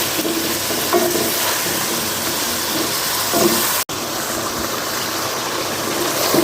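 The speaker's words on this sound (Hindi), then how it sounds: "ये देखिए चिकन हमारी फ्राई हो रही है" Chicken for biryani fries in a pot with a loud, steady sizzle and crackle, occasional stirring scrapes, close and continuous with a brief dropout midway.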